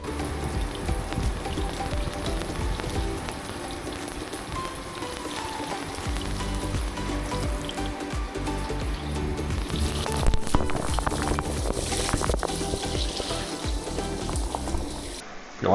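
Running water rinses a HOTO spin scrubber after cleaning, a continuous splashing, hissing stream with small shifts and a brief louder burst near the end, close and moderately loud.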